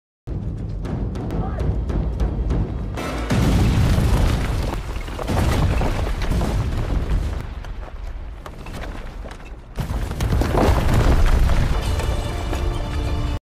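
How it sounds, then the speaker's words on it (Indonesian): Repeated booming explosions in a war film, with heavy rumbling blasts and debris, loud and dramatic, with brief quieter gaps between bursts. "ledakan tersebut terjadi dan menghancurkan mereka dalam beberapa detik"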